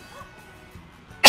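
A single sudden sneeze bursts out loudly at the very end, following a second of faint background murmur and near silence.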